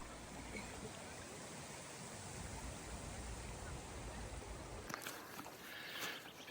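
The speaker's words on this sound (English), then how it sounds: "Bern, Switzerland. Love this river." A river in Bern, Switzerland rushes past as a steady broadband wash of flowing water, continuous and fairly loud, with a brief shift in texture near the end.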